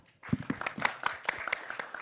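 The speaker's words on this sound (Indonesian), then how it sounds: "Tepuk tangan dulu dong" An audience at a boxing press conference claps, a scattered burst of handclaps starting after a brief quiet and continuing irregularly, fairly close and moderately loud.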